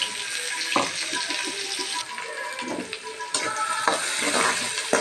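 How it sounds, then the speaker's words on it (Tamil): Mustard seeds, urad dal, cumin, onion and curry leaves fry in hot oil for cauliflower poriyal, giving a loud, steady sizzle with occasional stirring knocks, close and without speech. "எண்ணெய் சூடானதுக்கப்புறம் அது கூட கடுகு உளுந்த பருப்பு சீரகம் சேர்த்துக்கோங்க"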